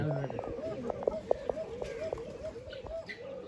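Pigeons in a home loft coo in soft, rapid, repeating pulses close by, partly under a person talking.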